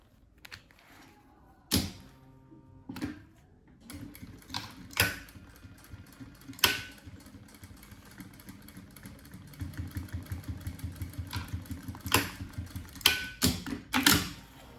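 A sewing machine stitches a safety seam in bursts, with clicks and mechanical thumps at the start and a quick chattering run of stitches near the end, close and fairly quiet.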